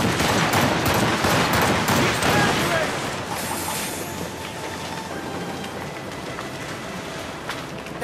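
Ship cannons fire in a naval battle in Assassin's Creed Rogue, a dense rolling barrage of booming blasts that is loud and close at first, then eases into a sustained rumble with faint shouting underneath.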